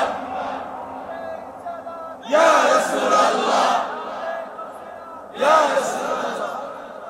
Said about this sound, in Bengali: একটা বিপ্লবী তাকবীর হবে